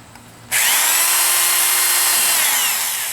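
A power drill bores through rain-gutter material to make pigeon loft perches, starting abruptly after a brief quiet moment and then whining steadily and loudly, close up, until the end with no talk.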